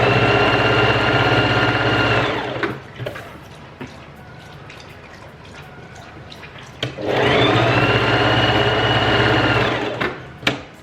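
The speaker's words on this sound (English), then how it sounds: "I'm just starting sewing all these elastic bits together." A Singer sewing machine stitches elastic pieces together for scrunchies, running loud and steady in two long bursts with a pause of handling noise between them.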